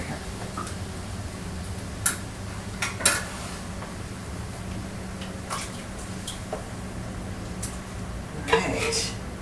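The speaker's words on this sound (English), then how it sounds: "Alright, stir it all up." Peeled crushed tomatoes being stirred for pizza sauce in a pot, with a spoon scraping softly and several sharp clinks against the metal over a steady background hum.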